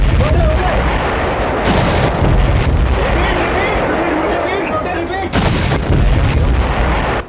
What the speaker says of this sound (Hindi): तोप ने अपना टारगेट सेट कर लिया और एक के बाद एक पाकिस्तानी बंकर और चौकियों पर गोले बरसने शुरू हो गए